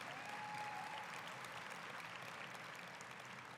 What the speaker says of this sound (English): Please join me in giving another round of applause to the dancers who welcomed us this morning.